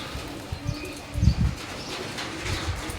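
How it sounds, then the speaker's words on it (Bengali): Damascene pigeons, short-beaked and kohl-eyed, give soft low coos with a couple of brief bursts of wing flapping nearby, set against a quiet background with no talk. "সব একদম সুন্দর কবুতর।"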